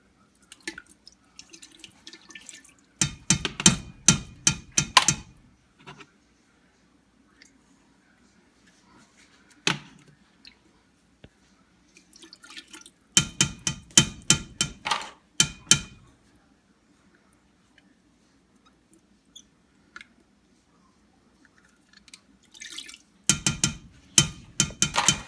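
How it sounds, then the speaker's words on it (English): Juice poured into a pasta sauce, heard as three separate splashy bursts of liquid, each a few seconds long, with quiet gaps between them. "Now we're going to add the loose juice."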